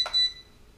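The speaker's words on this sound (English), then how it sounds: "beeps twice, which means you're in the next speed." An LED drone's handheld controller gives a short, thin electronic beep followed by a fading tone, heard alone in a quiet room.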